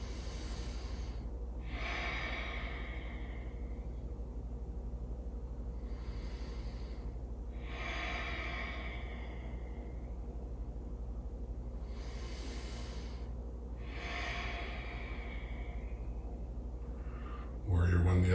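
Deep, slow breaths during a held yoga pose, about three long exhalations spaced evenly and heard close and alone in a quiet room.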